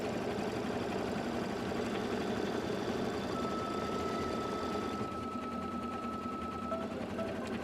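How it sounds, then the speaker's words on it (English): An embroidery machine stitches a decorative tack-down line at a steady, fast mechanical hum with a faint rhythmic chatter, heard close and continuous with no talk. "So it's stitching right outside the last decorative stitch it did."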